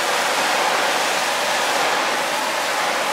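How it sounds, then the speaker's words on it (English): Water pours over a car's paintwork during a detailing session with the pressure washer switched off, a steady close hiss and splash that holds evenly without break throughout. "I'll just put some water on it and see if it does bead up."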